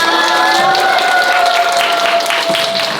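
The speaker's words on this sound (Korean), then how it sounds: "그럼 마지막 무대도 큰 박수 부탁드리겠습니다" An audience at a family performance applauding before the final act, steady clapping from a crowd that holds evenly for a few seconds.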